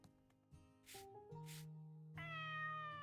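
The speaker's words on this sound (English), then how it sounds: "A kitty." A kitty in Story of Seasons: Pioneers of Olive Town gives a few clear, tonal meows in quick succession over soft game music, with no talking.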